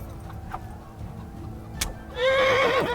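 A horse neighs loudly in a long, wavering whinny near the end, in the Kingdom Come: Deliverance video game, after a quieter stretch of low rumbling and faint clatter.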